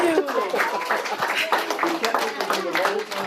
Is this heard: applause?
yes